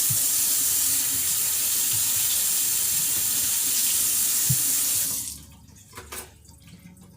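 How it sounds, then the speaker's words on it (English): Prickly pears are rinsed under a running kitchen tap, a steady close rush of water for about five seconds before it shuts off, leaving a few soft handling clatters and no voices. "So first we're going to rinse them off."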